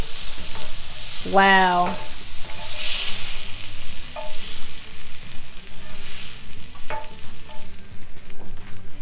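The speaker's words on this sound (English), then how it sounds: "You hear that sizzle?" Cajun blackened shrimp sizzles in a hot pan while being plated, a steady hiss with some stirring scrapes and a short exclaimed word over it.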